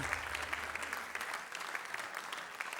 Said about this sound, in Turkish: seni alkışlarla tekrar alanına gönderiyoruz